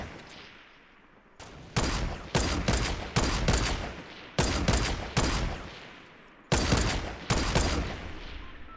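Sniper rifle and revolver shots ring out in Fortnite, loud and close, as about nine sharp reports come in two uneven bursts with short pauses between them and no talking.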